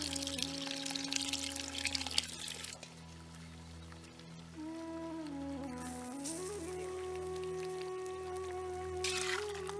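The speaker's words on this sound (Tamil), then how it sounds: "நம்ம அரைச்சி எடுத்த தேங்காய் கடலைய தண்ணியில கரைச்சி குழம்போட சேர்த்துக்கலாம்" Ground coconut paste mixed with water pours and trickles into a pot of meat curry, a gurgling stream with soft splashes, alongside a steady low hum and a faint whistling tone.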